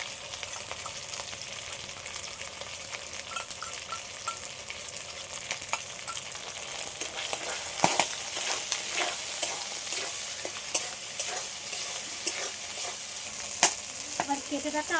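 Spiced chicken frying in a pan with mango to follow, a steady hiss of sizzling oil running throughout with occasional clinks and stirring scrapes, one louder burst near the middle.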